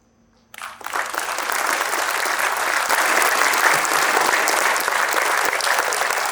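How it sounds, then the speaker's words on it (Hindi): A large audience at a university convocation ceremony breaks into sustained, dense applause that starts abruptly and holds steady and loud throughout, with no talking over it. "ये सबकी ताली की जो गूंज है ना"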